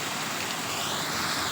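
Water pours steadily from a motor-pumped farm tank outlet on a village morning, a continuous close rushing splash with no talk.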